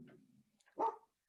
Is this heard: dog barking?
yes